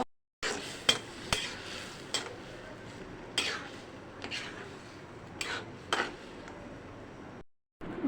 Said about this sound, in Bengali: এখন এর মধ্যে সিদ্ধ করে ডিমটা ছেড়ে দেব